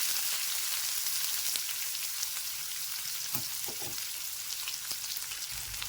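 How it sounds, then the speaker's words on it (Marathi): Onions fry in hot oil with mustard seeds and cumin, giving a steady, close sizzle throughout. A couple of faint stirring clinks rise above it, and no one speaks. "आपला कांदा तळत आहे"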